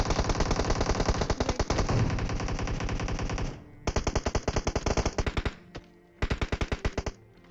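Rapid automatic gunfire from PUBG Mobile rattles in long, loud bursts, then breaks into shorter volleys separated by brief pauses, with crisp, evenly spaced shots throughout.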